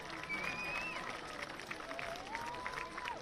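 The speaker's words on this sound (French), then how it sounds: "On peut les applaudir hein, pendant" Spectators at the Algeria vs Nigeria rugby sevens final in Mauritius applaud as handshakes take place, a faint, distant spread of clapping and crowd murmur with whistles sliding over it.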